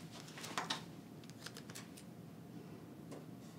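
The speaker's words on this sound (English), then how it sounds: "I'm gonna pull off two pieces of tape from this roll, and I'm gonna put them onto the table." Two pieces of tape are pulled off a roll and stuck to a table, giving a few quiet short tearing rasps and crackles that fade out, faint and close.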